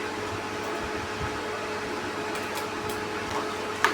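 A sewing machine stitching at home after the bobbin is loaded, a continuous motor hum with a faint rapid stitching rhythm throughout and a small click near the end, no talk.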